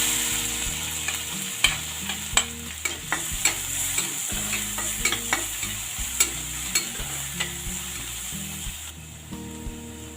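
Garlic fries with green chilli and cloves in a pan over low gas, a steady sizzle punctuated by frequent sharp clicks and knocks of a spoon stirring against the pan, with music underneath.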